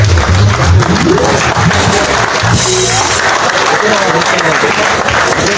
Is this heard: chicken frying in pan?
no